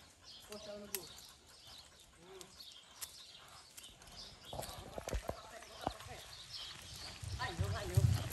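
A horse's hooves clip-clopping during cowboy training at Parque Guarani, a run of irregular hoof knocks that grows busier and louder toward the end, with people talking over it and birds chirping.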